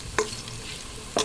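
Garlic fries in hot oil for chicken arroz caldo, giving a steady sizzling hiss broken by two sharp scrapes of stirring.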